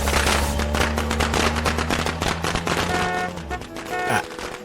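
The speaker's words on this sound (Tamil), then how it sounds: "வெளியில பட்டாசு வெடிக்குது பாத்தியா?" Firecrackers bursting outside, a dense rapid string of loud sharp cracks over a low steady musical drone, thinning out toward the end.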